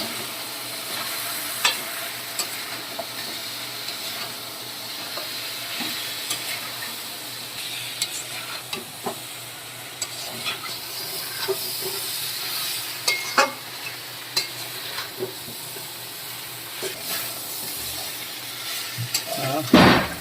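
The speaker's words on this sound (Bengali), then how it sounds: "এরপরে দিয়ে দেবো সামান্য সর্ষের তেল ভালো করে বন্ধুরা আমি কষিয়ে নেবো" Chicken tangri sautéing in mustard oil, stirred in a pan, a steady close sizzle with frequent scraping and clattering strokes of the spatula, louder near the end.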